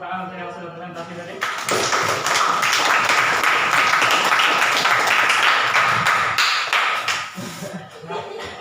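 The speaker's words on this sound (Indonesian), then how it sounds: "tepuk tangan untuk yang sudah presentasi tadi" A group claps for presenters after their presentations, applause rising suddenly after a brief pause and holding steady before fading toward the end.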